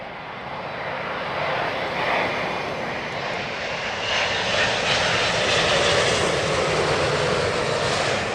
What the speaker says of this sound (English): this is the British Airways Flight 158, inbound from Bermuda